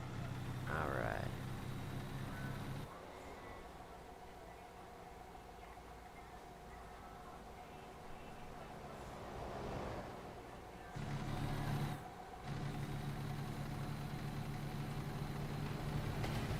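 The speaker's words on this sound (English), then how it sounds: "in this game, the diesel engine, it sounds like a gas engine with a misfire" A diesel truck engine idles in American Truck Simulator, a steady low droning hum that dips quieter partway through, then swells back to full level.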